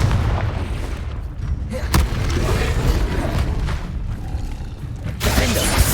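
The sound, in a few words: Confringo spell explosion in the video game Hogwarts Legacy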